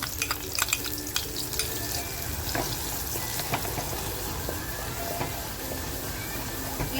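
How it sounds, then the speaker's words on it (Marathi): Green masala fries in hot oil in a pot, a dense, continuous sizzle with sharp crackles and occasional scraping stirs, close and fairly loud throughout. "हिरवा मसाला बघा अगदी खमंग फ्राय झालेला आहे"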